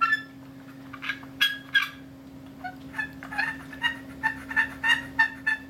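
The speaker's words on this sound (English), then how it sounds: "I take my chalk and just chalk the pyramid just a little bit to see if it makes a sound." Push button turkey call with a freshly chalked pyramid, sounding a series of short, faint yelps in uneven bursts, some clustered in quick runs, over a steady background hum.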